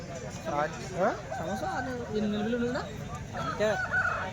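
Country chickens at the Tuesday poultry market in Kadiri: several roosters crow and hens cluck in overlapping bursts, nearby and moderately loud, while people talk and bargain throughout.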